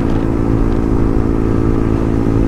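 A motorcycle on a Sunday morning group ride through the Patratu Valley runs at a steady, loud drone with a continuous engine rumble and faint clatter throughout, close by and with no talking.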